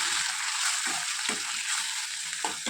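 Chopped tomatoes frying in hot tempering oil for a sherva, a loud, constant bright sizzle with a few stirring scrapes breaking through.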